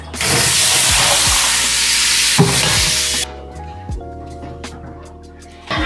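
Whole spices hit hot oil for Kerala-style mutton biryani with a loud, close burst of hissing sizzle that fades to a softer crackle, with a few clinks of the pan.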